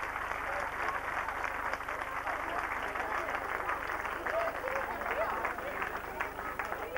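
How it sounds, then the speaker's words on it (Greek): Audience at an awards ceremony for a friendly football match clapping for the first goal scorer, steady applause throughout with a voice speaking over it. "Χειροκροτήσω τον πρώτο σκόρερ"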